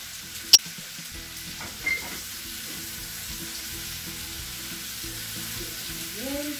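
Vegetables gently fry in oil, giving a soft, steady sizzle with a couple of brief utensil knocks near the start.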